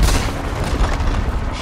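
A tower firing during a Dota 2 match makes a dense, loud burst of booming, rumbling impacts that holds steady for about a second and a half.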